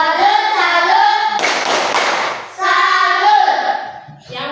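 Children at school play the tepuk salut clapping game, chanting in unison with a short burst of hand clapping in the middle, followed by more chanted voices.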